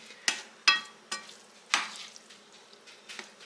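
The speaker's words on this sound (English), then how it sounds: "I'm just going to get that shrimp mixed in really well" Cooked shrimp being stirred into dirty rice in a pan: a handful of sharp, close spoon scrapes and clacks against the pan at an uneven pace, over a very faint sizzle, with no talking.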